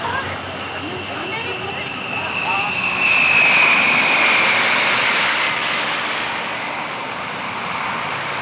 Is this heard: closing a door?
no